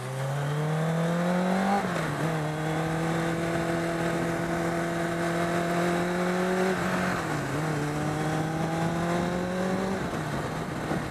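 A Mercedes SLR McLaren engine drones loudly and steadily, rising in pitch as the car accelerates, dipping at gear changes near two and seven seconds, then climbing again as it passes close by.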